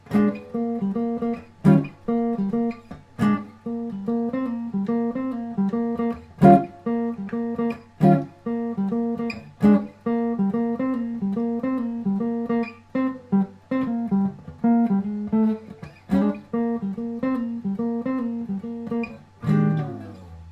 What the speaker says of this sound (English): that is a good one to learn on the guitar because you can actually throw some chords with the theme